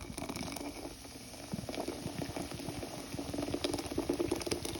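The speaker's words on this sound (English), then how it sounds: "now I'm going to add the beer in there" Beer poured into a pot of consomme, a steady fizzing, bubbling liquid sound with soft patter, close and continuous throughout.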